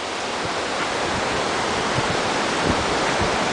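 Ocean surf at Kata Beach, Phuket, makes a steady, even hiss of breaking waves, with no voices and no distinct breaks between waves.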